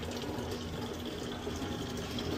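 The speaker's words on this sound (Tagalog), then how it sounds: "Dito kami nagigib" Water running steadily from a tap while filling containers of various sizes at a Canadian Tire store, a continuous soft gushing hiss with no pauses.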